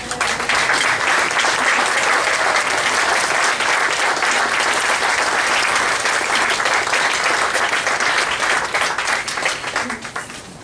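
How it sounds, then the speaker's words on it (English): Loud, steady applause from a large crowd at a groundbreaking ceremony fills the whole stretch, dense clapping that only slightly thins toward the end. "give them a round of applause."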